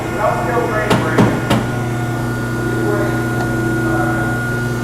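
A Scotchman 5014-TM 50-ton hydraulic punch and shear cycles quickly, giving three sharp, close impacts in quick succession over a steady hydraulic motor hum.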